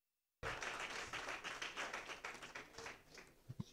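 After a moment of silence, an audience at a diploma-award ceremony bursts into dense, sustained applause that slowly thins, with a few louder single claps as it fades.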